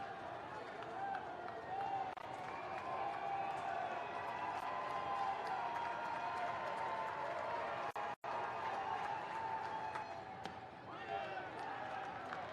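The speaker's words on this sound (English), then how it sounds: "John Jay crowd trying to get behind their guys." A baseball crowd at a boys' high school city championship at Yankee Stadium cheers from the John Jay side, a distant, steady roar with scattered shouts beneath commentary.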